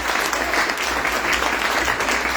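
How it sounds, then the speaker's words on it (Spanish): Dense, steady audience applause fills a hall after a history lecture on women in colonial Aguascalientes, loud and continuous throughout with no voices over it. "Un aplauso para estas 2 historiadoras."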